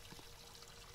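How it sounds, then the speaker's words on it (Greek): Water pours into a glass in a short, steady splashing stream, close and continuous for under a second. "Κάτσε, βάζω λίγο νεράκι."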